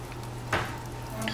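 A whisk stirring cornstarch slurry in a bowl makes a single short, soft scraping stroke, faint under a low steady hum.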